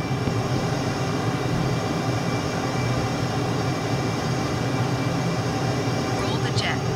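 A jet aircraft roars steadily in Microsoft Flight Simulator, a constant broadband engine drone with a low rumble that stays loud and even throughout, without speech.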